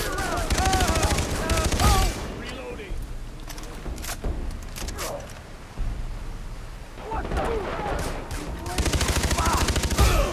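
Bursts of automatic gunfire and explosive blasts in the co-op campaign of the video game Far Cry 3, loud rattling volleys at the start and end with a lull between, mixed with shouted voices.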